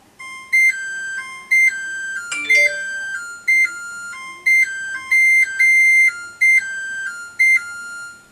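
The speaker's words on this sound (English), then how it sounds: "you'll be able to hear the loudness and the jingle that it plays when the timer goes off" An LG 6.3 cu. ft. slide-in smart dual-fuel electric range with ProBake plays its timer jingle, a loud, clear electronic melody of short repeated tones in a steady pattern, with one brief different chime near the start.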